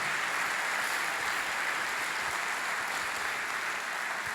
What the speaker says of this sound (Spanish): Dale a Dios un aplauso por eso